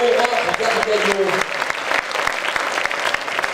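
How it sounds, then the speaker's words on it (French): Applause at an award ceremony in Aveyron, a crowd clapping steadily and densely for a prize winner, with a voice speaking over the start. "Applaudissements s'il vous plaît pour Aurore Gargaillot"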